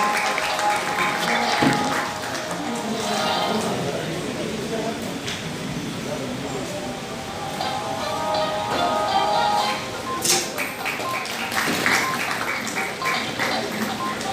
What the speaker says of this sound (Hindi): तालियों की गड़गड़ाहट में ये एलान कबूल किया जाएगा.